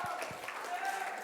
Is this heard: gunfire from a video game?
no